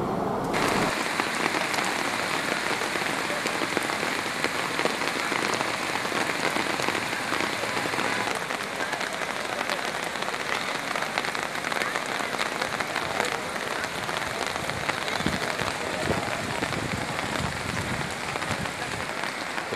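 Steady rain falls throughout a temple Brahmotsavam festival in Chittoor, a dense, even patter on surfaces that lasts the whole stretch with no pauses and no speech.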